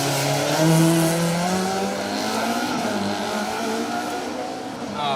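A rally kit car tears along an asphalt stage at Rali Ceredigion in Wales, its engine loud and close with a rising and falling pitch as it passes at speed, tyres briefly squealing.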